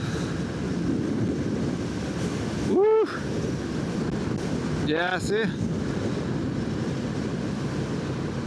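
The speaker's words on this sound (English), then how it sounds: "Look how windy it is now." Strong wind roars and buffets the microphone throughout while riding a motorcycle on a road in Vietnam, with a few short excited vocal exclamations and brief speech breaking through.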